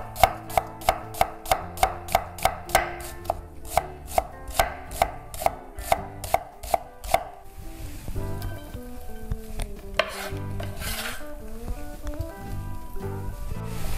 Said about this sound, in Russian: И прорезаем еще вдоль, чтобы все меленько получилось.